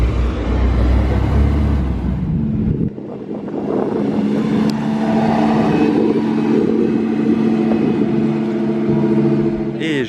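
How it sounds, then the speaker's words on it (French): Traffic in Monaco with supercars and motorcycles, including McLarens, rumbling past loudly at first, then engines idling and crawling with a steady hum, and a voice talking over it. "Regardez un petit peu le trafic monégasque"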